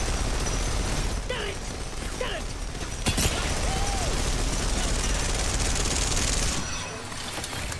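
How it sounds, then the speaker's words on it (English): Rapid gunfire in the Apex Legends video game, short bursts of shots and mechanical weapon clatter over a dense, steady wash of game noise, with one sharp louder crack partway through. "some flunkers shooting at me"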